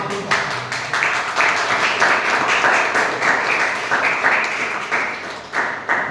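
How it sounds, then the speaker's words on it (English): An audience at a Toastmasters club meeting breaks into sustained applause, a dense wash of many hands clapping at moderate distance that swells, holds steady for several seconds and tapers near the end. "Everyone, please clap."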